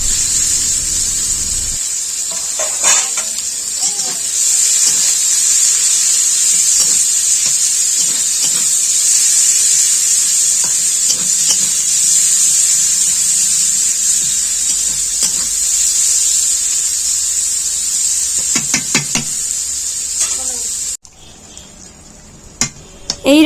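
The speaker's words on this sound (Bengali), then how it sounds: "দিয়ে দিচ্ছি 1 চামচ জিরা আর পরিমাণ মতো পেঁয়াজ দিয়ে ভালো করে ভেজে নিচ্ছি" Cumin and onion frying in oil with panch phoron in a pan, a steady loud hiss and sizzle running throughout with occasional stirring clatter, in a village-style banana stem curry preparation.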